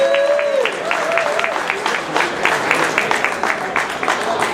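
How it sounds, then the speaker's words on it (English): Restaurant audience at a Mission BBQ applauding its hosts, a dense burst of many hands clapping close by that carries on steadily, with a voice briefly heard at the start. "a big round of applause for our wonderful hosts here at Mission Barbecue"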